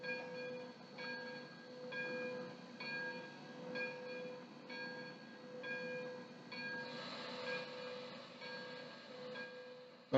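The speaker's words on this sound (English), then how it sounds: "you can hear the steam filling up" A DCC sound decoder in an On30 steam locomotive gives a faint, steady steam hiss with a soft regular ticking pulse, quiet and continuous throughout.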